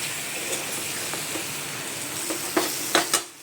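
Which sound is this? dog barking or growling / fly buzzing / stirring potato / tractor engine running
stirring potato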